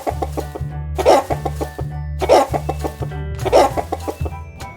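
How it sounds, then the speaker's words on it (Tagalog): A chicken clucks in short repeated bursts, close and clear, with three louder squawking clucks spaced about a second apart over a low steady hum. "Ayam. Chicken."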